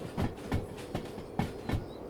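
A heavy freight train rolls in during the Derail Valley game, with steady clickety-clack wheel beats over rail joints repeating roughly every third of a second, fairly quiet and close, with no talk.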